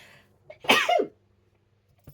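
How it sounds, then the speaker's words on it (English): A single loud sneeze with a short inhaled build-up, close to the microphone, followed by quiet. "I'm going to sneeze, I do apologise."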